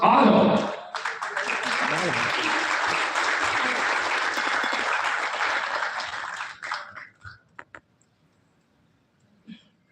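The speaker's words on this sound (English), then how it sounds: "let's welcome our champions to the stage with the loudest round of applause" A school award ceremony in New Delhi erupts in loud, dense applause for about six seconds, then thins to a few scattered claps and fades to near silence.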